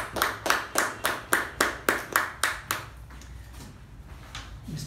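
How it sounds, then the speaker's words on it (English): At a Toastmasters meeting, an audience claps in a strong, even rhythm of about nine sharp beats. The clapping then thins into scattered, softer claps. "Can we have user applause for DTM MU also?"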